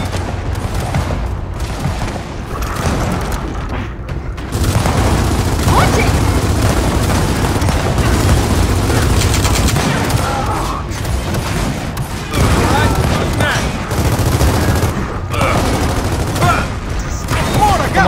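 Sustained gunfire in Gears of War 4: loud, rapid bursts of automatic weapons and heavy shots, coming in dense volleys with brief pauses, over rumbling battlefield ambience.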